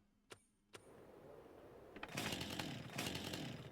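A chainsaw revs up and roars while cutting a tree in the farming video game Farming Simulator 25, starting after two sharp clicks and a rising whine, then holding a loud, rough buzz with a brief dip partway.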